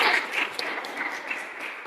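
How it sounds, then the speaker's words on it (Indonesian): A classroom group applauds after a presentation with brief, moderate clapping that is strongest at the start and then tapers into a lighter patter. "tepuk tangan"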